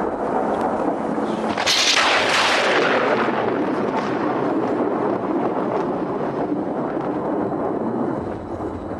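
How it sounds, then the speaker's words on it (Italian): Thunder sound effect for a stormy scene in an amateur theatre production in Francofonte: a continuous loud, rumbling roar with a sharp crack that swells near the start and then rolls on steadily, with no voices. "Lo sentite che malo tempo"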